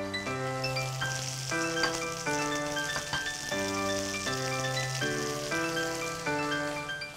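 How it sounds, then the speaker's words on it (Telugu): Garlic, onion and bay leaf sizzle in hot oil with a steady crackling hiss beneath prominent background music, lasting throughout at moderate volume. "ఇందులో ఒక్కొక్కటిగా వేసుకుంటాం అన్నమాట ఫస్ట్ గార్లిక్ గార్లిక్ తర్వాత ఆనియన్ ఆనియన్ తర్వాత బే లీఫ్ వేసుకొని"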